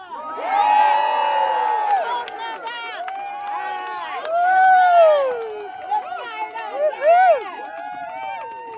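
A crowd at a press conference on tax fairness cheers loudly, with sustained whoops and shouted voices rising and falling over several seconds.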